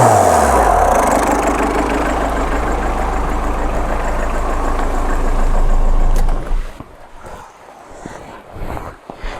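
A 2002 Tata Indica, converted and fitted with a turbo, idles loud and close with a steady low rumble for about six seconds before the engine is switched off, leaving quieter room noise and a few knocks.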